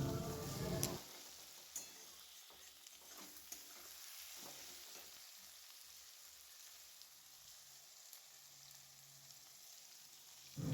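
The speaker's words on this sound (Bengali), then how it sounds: "পেঁয়াজটা ভালো করে ভেজে নিচ্ছি এই চিকেন বিহারিতে পেঁয়াজটা লাল লাল করে ভেজে নিতে হয়" Onions frying and being stirred in a pan for chicken Bihari curry, a steady close sizzle with intermittent scraping stirs, a louder clatter at the start and end, and no talk.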